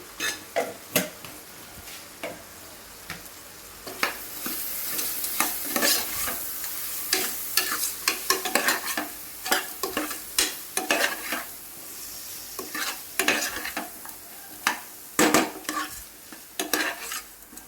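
Beetroot cooks in a pan with biryani masala and salt, stirred again and again: rhythmic scraping strokes and clatter of a spoon over a steady low sizzle, fairly close, with no one speaking.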